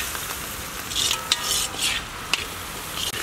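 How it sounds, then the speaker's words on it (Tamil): Onions sautéing in oil for an eggplant curry, stirred with a utensil: a steady close sizzle with scraping stir strokes and a few sharp clinks of metal against the pan. "வெங்காயம் நல்லா வதங்கட்டும்,"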